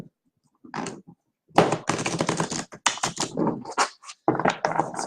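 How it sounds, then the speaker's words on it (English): A deck of tarot cards being shuffled by hand, heard as a series of quick papery riffling bursts with short pauses between them, close and fairly loud. "I'm going to shuffle this deck sometimes."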